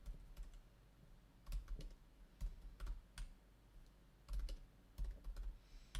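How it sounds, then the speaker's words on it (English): Bursts of close, quiet clicking as keys are typed on a computer keyboard, with short pauses between groups of keystrokes and no voices. "If I type correctly."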